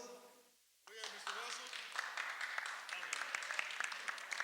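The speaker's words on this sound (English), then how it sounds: "I love that you are applauding Mr. Russell." High school seniors at a meeting applauding Mr. Russell, the clapping bursting in after a short line of speech and a pause, then continuing as a lively scatter of hands from a room of students.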